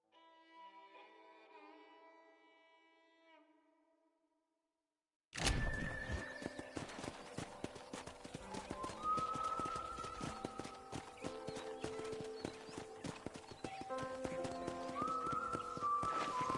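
A horse is ridden in Red Dead Redemption, its hooves clip-clopping steadily and up close, with an occasional neigh. Faint music plays for the first few seconds, then the hoofbeats begin abruptly and carry on over the game's ambience.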